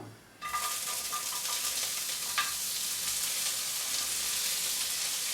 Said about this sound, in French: Donc là j'ai une huile bien chaude. Donc je vais tout simplement mettre les légumes dans la poêle.